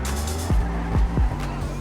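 A convertible car drifts in GTA Online, giving several short tire squeals in quick succession over a steady engine drone.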